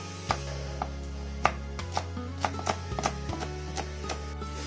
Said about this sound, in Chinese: 将青红椒依次切圈